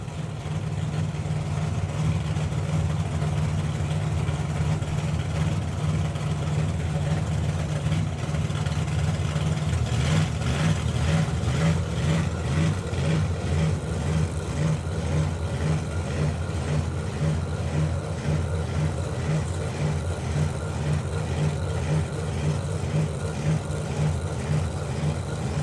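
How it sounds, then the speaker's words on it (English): Supercharged big-block drag racing cars at a Summer Nationals drag meet run together as a loud, continuous low engine roar for the whole stretch, with a harsher, busier throbbing texture picking up partway through. "another loud, shouty blown car against the big block"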